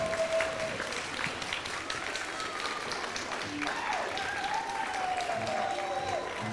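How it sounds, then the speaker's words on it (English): Graduates of a school for the deaf and the blind stand cheering and applauding at their 2023 graduation ceremony, a steady wash of clapping and crowd noise throughout, with whistles or high cheers rising over it. "Graduates all stand and cheer."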